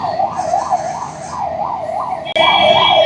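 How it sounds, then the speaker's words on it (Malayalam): An ambulance siren wails in a steady rising-and-falling pattern through Kochi road traffic near Marine Drive, then switches abruptly to a louder, harsher continuous tone as it draws close. "ഒരു ആംബുലൻസ് വരുന്നുണ്ട്."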